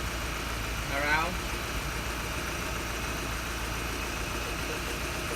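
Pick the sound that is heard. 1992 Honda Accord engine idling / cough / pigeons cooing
1992 Honda Accord engine idling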